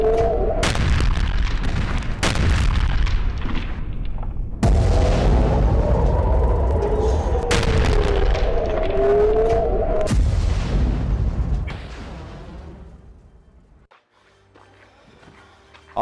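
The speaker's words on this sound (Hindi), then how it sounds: "आज का तीसरा वीडियो इसराइल की अग्निवर्षा का है, जो आसमान से हमास के ठिकानों पर की जा रही है।" Heavy airstrike bombardment in Gaza, Israeli munitions hitting Hamas positions: a dense run of deep booms and explosive bursts, loud and near, with sharp blasts rolling together for most of the span before fading to a quieter tail.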